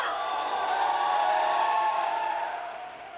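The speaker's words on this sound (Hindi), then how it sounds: "अर्जुन के लिए तालियां।" A crowd at a hip hop dance competition show cheers and applauds for a dancer, a dense, steady roar that stays loud and fades slightly at the end.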